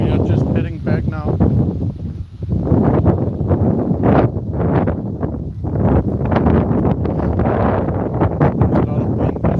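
Wind buffets a phone microphone outdoors on a walk, making a loud, rough rumbling roar that surges and dips, with a person talking underneath the gusts.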